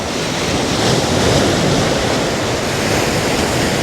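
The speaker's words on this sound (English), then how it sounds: "Watching the sun go down and the waves crash in." Ocean surf breaking on the beach at Los Cristianos, Tenerife, heard as a steady broadband wash of waves with some wind noise, continuous and fairly loud, with no voices.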